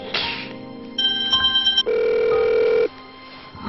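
A telephone rings on and off without being picked up, a bright electronic trill then a steady buzzing tone, clear and fairly close indoors in a Korean drama scene.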